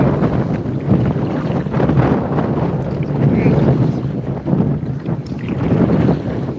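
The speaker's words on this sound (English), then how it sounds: "I definitely want to get out of this wind" Strong outdoor wind buffets the microphone in a continuous loud, low rumble that swells and dips for the whole stretch, with no voice heard.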